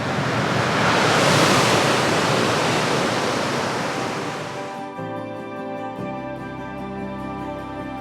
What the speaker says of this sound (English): you can hear the lake over there. It sounds like the ocean absolutely crashing